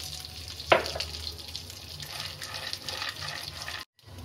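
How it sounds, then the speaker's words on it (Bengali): Peanuts frying in a pan, a soft continuous sizzle with a sharp clink near the start and brief stirring scrapes, close and moderately quiet, cutting out abruptly at the end. "এখন আমি চীনাবাদামটাও ভেজে নেব।"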